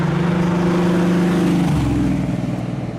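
A 1971 Chevrolet Nova SS396 V8 throbs loud and close, its engine revving high before the pitch drops sharply as it settles back down, with no voices.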